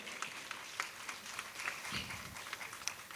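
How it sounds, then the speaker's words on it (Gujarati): Scattered audience clapping at a spiritual youth camp in Surat while a guest is being honoured: faint, distant, uneven claps with a soft crowd murmur, fairly quiet throughout. "જોરદાર તાળીઓના ગડગડાટથી વધાવશું આપણે"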